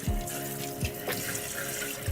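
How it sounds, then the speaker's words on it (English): Water from a tap runs steadily over a cold press juicer basket being rinsed, a close splashing flow with a few knocks as the basket is handled. "So all I have to do here is just rinse this off, get all those chunks to run out the bottom"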